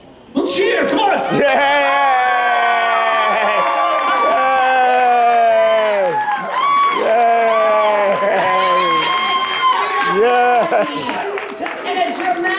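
A cartoon auditorium audience cheers wildly without pause, a loud, sustained wall of whooping and hollering voices with rising and falling yells over crowd noise.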